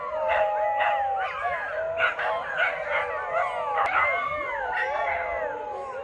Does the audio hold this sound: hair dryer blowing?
no